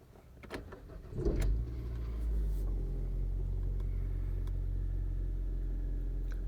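A 2012 Hyundai Santa Fe 2.4 with a stalling, cam-crank correlation fault cranks briefly, catches and settles into a steady low idle rumble, heard close with no talking.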